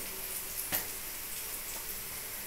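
Food frying in a little oil sizzles quietly and evenly, with one brief pop early on and faint spatters after it.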